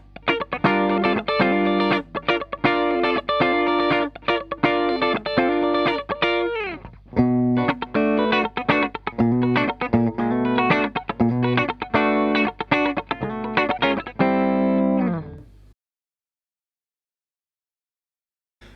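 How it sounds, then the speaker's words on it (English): Les Paul electric guitar with a tight tone from a compression pedal plays steady rhythmic chords for about fifteen seconds, then stops into silence. "I'm now going to put a little bit of compression on with the pedal"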